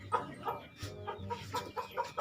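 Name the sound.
chicken clucking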